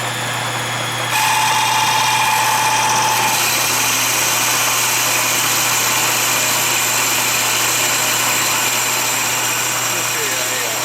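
A metalworking machine set up for threading cuts off a metal workpiece, producing a steady mechanical hum with a high whine that rises in after the first second and carries on evenly to the end.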